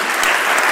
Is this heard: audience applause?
yes